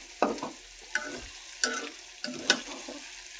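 Potatoes frying in a pan, North Bengal style, with a light crackle under it and five or six separate scraping stirs of a spatula spaced about half a second apart.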